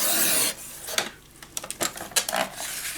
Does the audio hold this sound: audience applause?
no